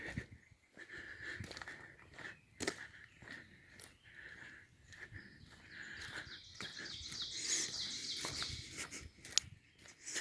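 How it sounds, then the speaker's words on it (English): Birds sing and chirp in New England woods beside a trail among skunk cabbage, faint scattered calls over a soft outdoor background with occasional nearby rustles or steps. "Many birds, as you can understand here."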